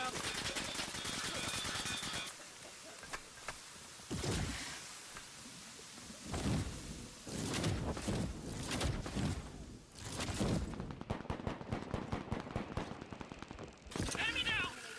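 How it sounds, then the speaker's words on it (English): Bursts of M4 rifle fire set to burst mode in the shooter Off The Grid, clusters of sharp shots recurring through the clip with quieter gaps, a voice talking over parts of it. "He's put the M4 in burst fire mode."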